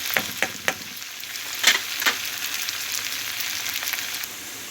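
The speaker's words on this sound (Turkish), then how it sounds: "patateslerimi çok güzel soteleyeceğim." Potatoes sauté in a hot pan for an egg and kashar cheese potato dish. A steady sizzle runs throughout, with a few sharp stirring clicks near the start and no voices.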